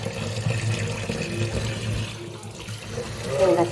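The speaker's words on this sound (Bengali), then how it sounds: "এবার কলটা ছেড়ে দেবো" Tap water runs into a bathroom basin fitted with a mesh strainer, a soft, steady splashing stream heard up close that swells slightly toward the end, with no talk.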